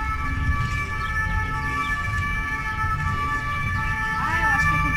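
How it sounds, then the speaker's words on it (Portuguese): An ambulance siren wails steadily over a loud rumble of street traffic, its tone holding and then bending as it passes nearby. "Dá-lhe ambulância."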